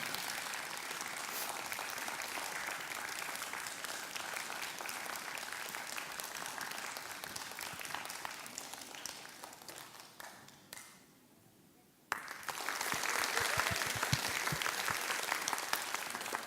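Applause at a children's composition concert in a performing arts center, a sustained crowd clapping that dies away briefly, then bursts back in loudly and continues.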